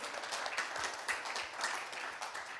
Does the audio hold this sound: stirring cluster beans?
no